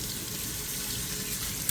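A kitchen tap runs steadily, water splashing close by into a sink to wet hands while shaping sourdough buns, a continuous hiss without talk.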